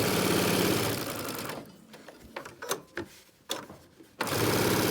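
A sewing machine stitches fabric for a child's 3-D face mask, running loud and continuous, pausing into a few scattered clicks and handling noises, then whirring back up at full speed, with no voices.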